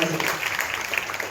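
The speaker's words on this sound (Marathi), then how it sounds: "बाहेर जोरदार टाळ्या द्यायला पाहिजे चौधरी मॅडम." A crowd at a school admission festival gives a teacher a burst of steady, dense applause, with a voice mixed in beneath the clapping.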